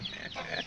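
Hens cluck and squawk close by in a brief, busy burst of overlapping calls as they are caught.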